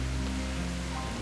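Heavy rain pours down near a mountain temple on the Harishchandragad trek, a dense, steady hiss of drops on surfaces filling the whole brief moment.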